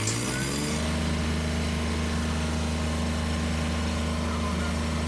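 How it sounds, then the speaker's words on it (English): A Kubota generator engine cranks briefly, then catches and settles into a steady, loud idle with a strong low hum and even mechanical drone that runs on alone. "And now we start the engine."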